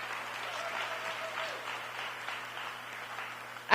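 An audience at a Destination DC marketing meeting applauds the team in a sustained, even round of clapping, moderately distant, easing slightly before a sharp sound at the end.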